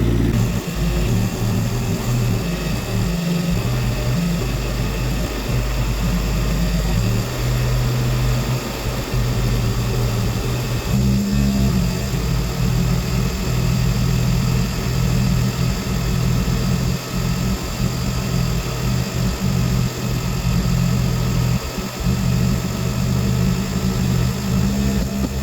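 A tractor working an underground building site in gear, raising its loader bucket, runs with a steady, loud, close diesel drone and low rumble that holds constant throughout with slight load changes.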